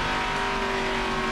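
NASCAR stock car engine at high RPM on the New Hampshire oval during the 2008 Sylvania 300, a loud steady roar held wide open for a brief moment.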